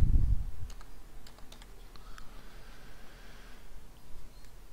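Keys clatter on a laptop keyboard as a command is typed, a quick run of close, crisp taps following a brief low thump, then quieter faint clicks.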